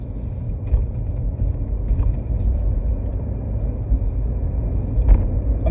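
A car drives along a road with a steady low engine and tire rumble, close and continuous throughout, broken only by a few faint bumps and knocks, with no talking.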